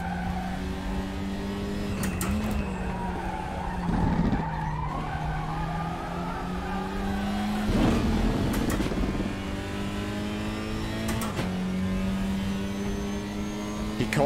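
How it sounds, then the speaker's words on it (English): Race car in RaceRoom, a WTCR touring car at Zandvoort, skidding and crashing: a steady engine drone with tire-squeal bursts and harsh impact thuds, loud and close, repeating several times. "And he's crashed"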